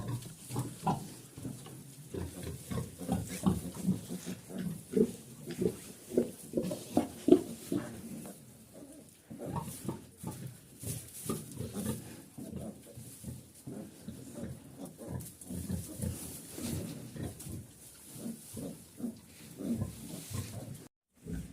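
Young pigs grunting and snuffling repeatedly at close range, a steady stream of low grunts with occasional louder snorts, no talking.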